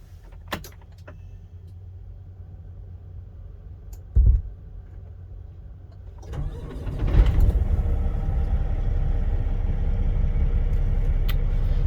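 A new semi truck's engine starting: a few clicks and a brief crank, then the big diesel catches and settles into a loud, steady low rumble close by, no talk.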